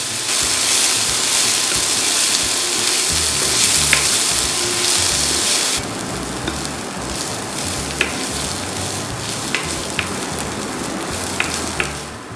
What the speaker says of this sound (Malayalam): നമ്മൾ ഉപ്പും കൂടി ഇട്ടിട്ട് നന്നായിട്ട് വഴറ്റിയെടുക്കണം